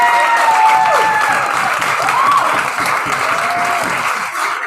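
An audience at an open mic night claps steadily and loudly for a performer, dense applause holding for several seconds with a few whoops and cheers mixed in.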